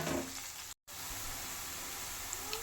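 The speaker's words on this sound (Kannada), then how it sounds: "ಕ್ಯಾಪ್ಸಿಕಮ್ನು 1-2 ನಿಮಿಷ ಚೆನ್ನಾಗಿ ಫ್ರೈ ಮಾಡ್ಕೊಳ್ಳೋಣ" Capsicum fries in a pan for roadside egg rice: a steady, even hiss of sizzling oil, fairly quiet and close, with no talking and a brief dropout early on.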